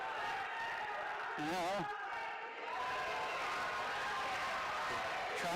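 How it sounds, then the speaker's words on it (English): A crowd at a triangular wrestling meet roars and cheers steadily throughout, loud and continuous, with a commentator talking over it. "it is just great to hear the crowd"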